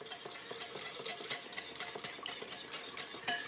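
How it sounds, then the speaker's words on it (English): A sugared egg mixture for French toast whisked in a bowl: quick, rhythmic clinks and scrapes of the whisk repeating close and fairly soft, with no talk. "whisk it in."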